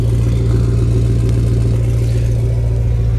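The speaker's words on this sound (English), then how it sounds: "That is a straight engine noise back there." Diesel engine of a 2007 Ford Powerstroke truck running with no turbo fitted, a loud, steady low rumbling idle with constant clatter, close and continuous.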